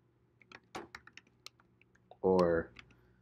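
Computer keyboard keys click in an uneven run of close, light keystrokes, then a short spoken voice cuts in at the end.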